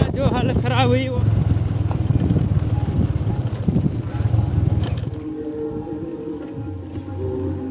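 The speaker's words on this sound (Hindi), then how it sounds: "यहाँ से हम लोग बाइक से जाएंगे नीचे कवौता की ओर" A motorbike on a village road heading down toward a hillside settlement, its engine droning steadily and fairly close with a short revving whine at the start, while people talk over it before the noise drops away.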